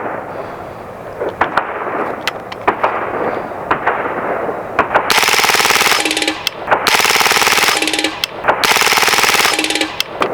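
A Hatsan Blitz .30 caliber air rifle fires on full auto in rapid bursts. A few scattered single shots come first, then three loud, dense strings of shots, each separated by a short pause, close and alone.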